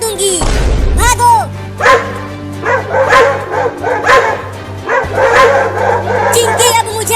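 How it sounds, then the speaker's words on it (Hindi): Dogs bark and yip in repeated loud, close bursts, with whimpering between them over a steady hum. "अरे चिंकी, वो देखो, वो कुत्ता फिर से आ रहा है।"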